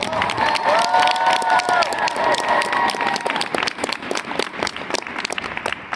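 At an Anime Boston cosplay chess event, an audience cheers and whoops loudly at first, then settles into a steady run of close, sharp clapping that thins toward the end.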